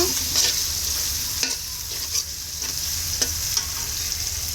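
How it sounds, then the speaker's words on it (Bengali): An egg fries in a pan on a stove turned up high, a steady close sizzle broken by a few light taps of a spatula. "আমি একটু চুলার জালটা বাড়িয়ে দিই, তাহলে ডিমটা ভালো মতো আমরা ভেজে নিতে পারবো।"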